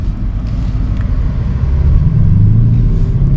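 A 2023 BMW XM pulls away hard on the road, its deep engine rumble swelling steadily louder as it accelerates, with no talk over it.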